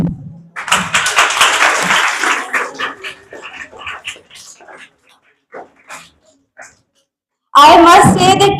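A brief round of clapping for the winning team at a competition fades into a speaking voice, with a loud, harsh burst of noise at the end.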